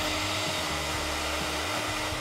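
Blender whirring steadily as it blends ginger, caster sugar and warm water into a syrup, a continuous loud motor drone with no pauses.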